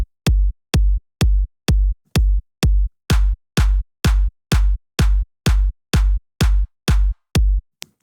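Crisp, clean clap sample from Splice landing on every beat over a booming kick, a steady train of identical short hits at an even tempo, growing a little brighter and longer partway through.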